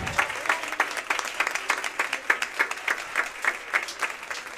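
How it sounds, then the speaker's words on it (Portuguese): A church congregation claps through a thanksgiving service, a dense run of hand claps with pulsing peaks, steady and fairly near, with no voices over it. "Aplauda o Senhor mais uma vez essa noite."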